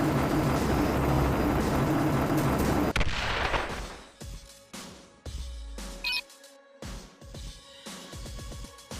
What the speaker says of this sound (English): a helicopter keeps strafing the deck